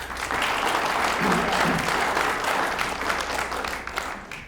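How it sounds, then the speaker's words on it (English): An audience at a county commissioners candidate forum claps for the candidates, a steady burst of many hands lasting a few seconds with a faint voice murmuring underneath before it fades. "So let's give them a round of applause."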